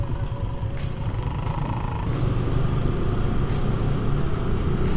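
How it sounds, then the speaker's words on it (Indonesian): Dense, steady rumble of heavy road traffic stopped in a jam at a red light near the Kali Putih intersection, with cars, trucks and engine drone close by throughout, no talk. "Ini kondisinya masih sangat macet."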